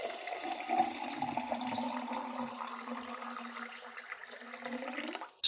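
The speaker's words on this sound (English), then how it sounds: "Mix it with 500 milliliters of clean water." Clean water poured onto a few tablespoons of rice, a steady splashing, gurgling pour that runs continuously for several seconds and stops abruptly at the end, with no voices.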